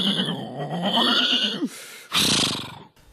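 A voice mimics a sheep with a drawn-out, wavering bleat, then a short breathy burst follows before silence.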